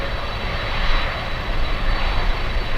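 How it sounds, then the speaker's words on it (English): A steady broad roar from the engines of a KLM Boeing 747 jet at Miami International Airport, loud and continuous with no talk over it. "All right, so the KLM 747 not lining up."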